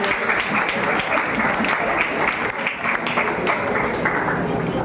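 An audience claps steadily to welcome guests onto the stage at a Dr. Sarvepalli Radhakrishnan death anniversary event, a dense, continuous applause with a faint murmur of voices beneath.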